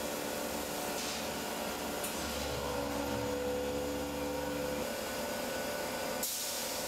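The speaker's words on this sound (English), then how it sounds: "After vacuum packing," A vacuum packing machine works on sliced smoked fish in a Hebridean smokehouse, giving a steady mechanical hum and hiss with tonal drones that shift partway through and a brief burst of air near the end.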